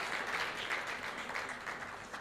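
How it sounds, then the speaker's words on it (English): Audience applause for panelists at a federal health ministry event on emergency medical and ambulance services, a steady wash of many hands clapping, full and continuous with no voices over it. "a round of applause for my distinguished panelists"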